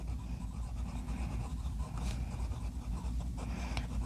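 A Pelikan Souverän M809 fountain pen nib scratches across paper in quick, continuous strokes, close and soft with a dry rasp.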